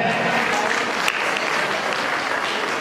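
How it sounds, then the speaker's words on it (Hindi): Loud, close audience applause welcoming a guest at a community talent award ceremony, a thick continuous roar of clapping from a crowd holding steady throughout. "तालियों के साथ उनका हार्दिक अभिनंदन और स्वागत है"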